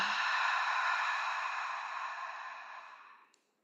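A single slow breath released through the mouth during a restorative yoga session, a soft, close airy exhale that tapers gradually into silence over a few seconds.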